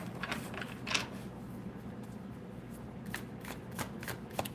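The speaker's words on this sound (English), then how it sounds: "All right, let me shuffle." Tarot cards are shuffled by hand in a series of soft riffling, papery bursts. The sound is quiet and close, the bursts come at irregular intervals, and there is no talk.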